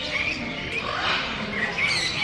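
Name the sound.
birds calling at a bird expo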